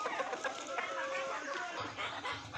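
Several chickens clucking close by, with scattered squawks over a busy farmyard background and some brief voices.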